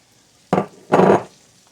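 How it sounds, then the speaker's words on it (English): Onions dropped into a pan of melted butter, with two sizzling bursts as they go in, a short one and then a longer, louder one, fading back to quiet. "the butter's all melted. We're going to throw in our onions."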